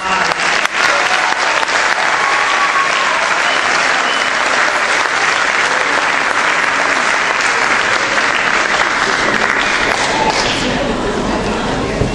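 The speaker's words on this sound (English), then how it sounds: "Give them a big round of applause." A large audience at the Arleta High School senior awards ceremony applauds Gold Seal Award recipients with loud, dense, sustained clapping that fills the whole stretch without letting up.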